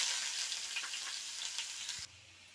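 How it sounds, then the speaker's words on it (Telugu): Mustard seeds, cumin, onion and garlic sizzle in hot oil while tempering for tomato dal, a steady bright frying hiss with light crackles throughout that dips slightly near the end. "పాన్ పెట్టుకొని ఆయిల్ వేసుకొని, ఆయిల్ హీట్ అయ్యాక ఆవాలు, జీలకర్ర, ఆనియన్, వెల్లుల్లి,"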